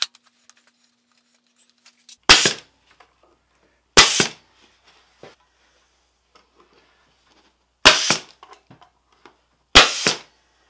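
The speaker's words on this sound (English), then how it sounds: "just time to glue and staple everything together" A staple gun fires into a wooden four-way mating nuc box being assembled, four sharp isolated cracks spaced a couple of seconds apart, loud and close, with faint handling noise between them.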